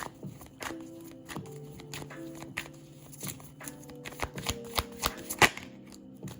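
Tarot cards being shuffled by hand, a run of crisp riffling flicks and taps in an irregular rhythm, close and moderately loud, with a faint tonal background underneath.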